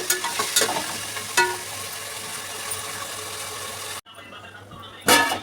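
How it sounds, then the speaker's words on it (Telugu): Ginger garlic paste hitting hot oil with garam masala in a pan, a loud close continuous sizzle and crackle with a few stirring knocks, briefly cutting out before flaring up again. "అల్లం వెల్లిగడ్డ పేస్ట్ వేస్తాను"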